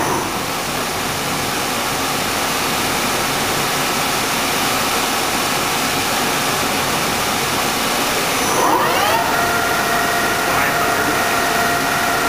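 A Dainichi MG75 CNC turning machine with a Fanuc 18TF control runs at 350 RPM in the medium gear range, giving a loud, steady broadband whir and hum. A brief rising sweep comes near the end.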